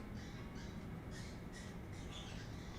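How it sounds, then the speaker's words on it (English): Several harsh bird squawks outdoors, about six short calls in an irregular series, distant and faint over a steady hiss of background noise. "Birds. You sound like you're doing trouble things."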